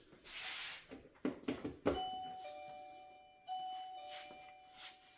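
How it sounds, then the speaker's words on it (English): A Dzees smart WiFi video doorbell with chime rings indoors, giving clear electronic chime tones that sustain and then repeat, preceded by a few handling knocks and clicks as the button is pressed. "then I'm going to ring the doorbell so you can see what it sounds like"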